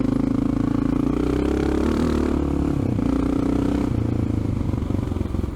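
A Honda XR650L motorcycle rides along a Florida road, its single-cylinder engine droning steadily and loudly up close with slight shifts in pitch as the throttle changes, accompanied by wind and road rumble.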